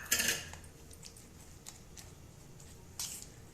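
A spoon scrapes and clinks in a pan while red chili is stirred into a village-style leafy vegetable curry, with one sharp burst at the start, faint taps in between and another scrape near the end.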